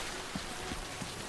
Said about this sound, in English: But definitely lots of rain though.